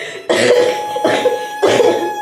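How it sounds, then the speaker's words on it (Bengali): An older woman with a cold coughs three times in quick, loud, close bursts, each a harsh rasp with short pauses between. "কাশি হয়ে গেছে"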